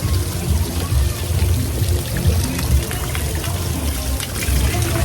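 A big cascade of water pours down onto riders on a lazy river's splash section in Puerto Plata, a loud, steady gushing roar close by that fills the whole stretch.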